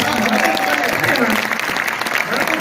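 Audience applause at a Hindi comic poetry gathering in Hisar, a steady dense wash of clapping from a crowd filling the whole stretch, with a voice talking over it.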